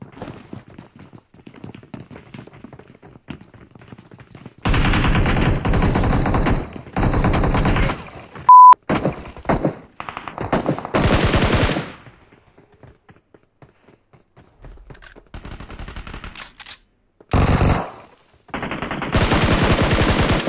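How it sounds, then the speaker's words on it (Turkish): Gunfire in the mobile battle-royale game PUBG Mobile during a squad fight: loud bursts of automatic fire broken by short pauses, with single shots and thuds in between and faint game sounds in the gaps. "Bir de oradan bana Viktor'la sıkıyor."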